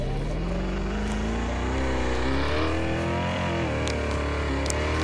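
A car in the video game City Life Tycoon speeds along with a steady, loud engine drone whose pitch climbs gradually as it accelerates, continuous and close throughout, with no talking.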